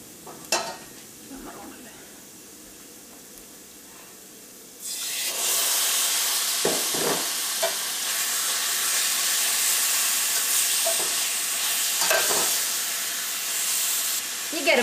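Chicken sizzles loudly in a hot pan for a shared kebab-style dish, with a quiet start and then a steady frying hiss broken by scraping stirs near the mic, without speech.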